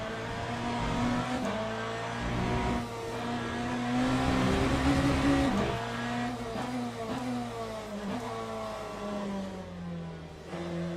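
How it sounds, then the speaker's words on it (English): An in-game car engine in the Le Mans Ultimate racing simulator, a continuous loud drone that rises and falls through revs and gear changes, steady throughout with no talk. "is the in-game engine sound really loud?"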